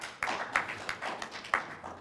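Scattered audience clapping at a mayor's State of the City address, a thin handful of separate claps with a few sharper hits, fairly faint and brief.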